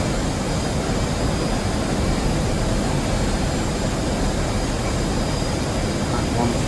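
An F/A-18 jet in the DCS flight simulator accelerating past Mach 1.3, a loud, constant roaring rush of engine and airflow noise with no break.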